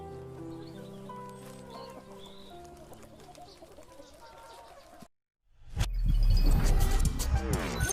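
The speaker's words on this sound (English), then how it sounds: "Imagine a world where hens are able to roam freely." Hens cluck over soft background music in an animal-welfare advertisement, followed by a brief silence and then a louder, dense burst of sound.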